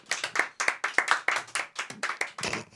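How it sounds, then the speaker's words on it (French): A small group applauds on a French studio show, about a dozen distinct claps in an uneven rhythm, close and crisp with clear gaps between them, and no one speaking. "On peut applaudir Raph quand même."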